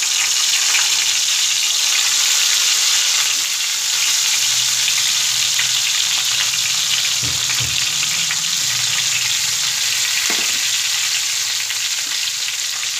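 Stuffed eggplants frying in oil with mustard seeds give a loud, steady sizzle that hisses without letup, with a few soft clunks as the pieces are set into the pan.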